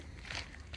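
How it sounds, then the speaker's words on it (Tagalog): Two soft, quiet footsteps of shoes crunch close by on forest ground, a brief pair of steps in otherwise hushed surroundings. "Tsaka yabag ng paa."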